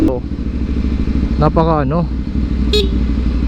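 A Kawasaki ZX-10R big bike passes along a street near Casco Market in Cebu, its engine note rising in a short loud rev over steady traffic rumble, while a person talks nearby.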